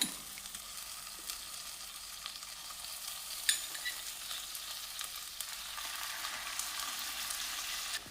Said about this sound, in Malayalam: ഇനി ഇതിലേക്ക് പാല് കുറേശ്ശെ ഒഴിച്ചു കൊടുക്കണം ലോ ഫ്ലെയിമിലായിരിക്കണം